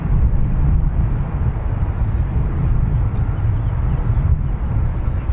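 Airliner taking off at Dublin Airport, a loud, steady broadband jet roar with heavy low rumble and buffeting wind noise on the microphone, holding constant throughout without talk.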